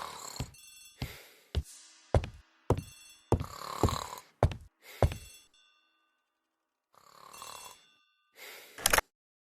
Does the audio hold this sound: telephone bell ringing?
yes